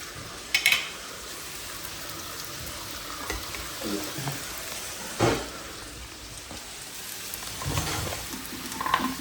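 Noodles stir-frying in a pan for Kolkata-style Indo-Chinese, a soft, continuous sizzle with occasional scrapes and clinks of tossing, fairly quiet and heard alone.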